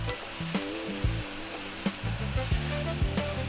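Chunky eggplant pieces frying in a beef curry pan over high heat, a constant crackling sizzle broken by repeated scraping stirs and clunks of the utensil against the pan, close up.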